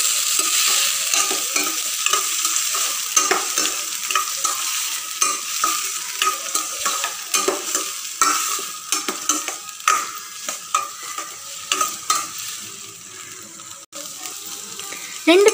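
Chopped onions, two large ones cut small, sautéing in a pan with steady frying sizzle and repeated scraping stirs, close and continuous with no talking.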